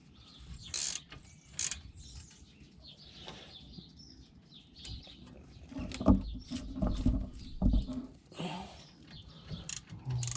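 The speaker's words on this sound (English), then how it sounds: "I'll just throw the ratchet in" A ratchet clicks in quick, uneven runs while turning the wheel hub bolts on a Saab 9-5 during a wheel bearing hub assembly replacement. The clicking is close, with metallic clanks and shuffling mixed in between.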